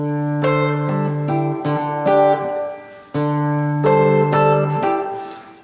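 A classical guitar plays one measure of a guitar instrumental, with ringing plucked notes and chords sounding up close and alone, broken by a brief pause partway through.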